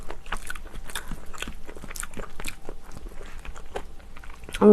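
Close-up biting and chewing of soft radish from a clam seafood soup, wet crunches and squelching mouth sounds in a steady rhythm, with a brief clatter at the end.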